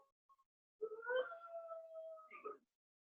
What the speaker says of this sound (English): their howl can go very, very far